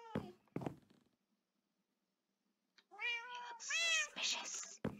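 A cat in the video game Minecraft meows several times after a couple of thuds and a quiet pause. The meows are fairly clear and rise and fall in pitch.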